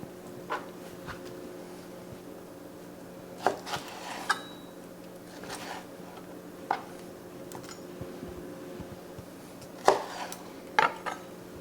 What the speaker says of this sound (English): I'm gonna finish chopping this